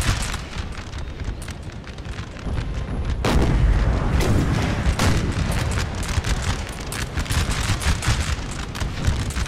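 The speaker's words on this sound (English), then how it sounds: "Now hopefully that Elb artillery there is trying to find the Austrians" Artillery thunders across a Napoleon: Total War battlefield, deep booms and cannon blasts rolling one after another with dense crackling gunfire in between, loud and continuous with a heavy burst near the middle.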